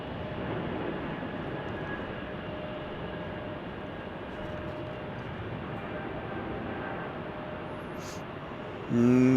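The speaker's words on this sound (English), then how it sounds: "A220 taking off right here, Airbus." An Airbus A220 airliner taking off from a Delta hub at Salt Lake City airport gives a loud, steady jet roar that holds at even strength throughout. A brief thump sounds near the end, and no one speaks.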